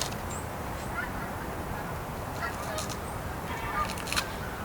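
Faint geese honking in the distance over steady outdoor background noise, with a few scattered calls.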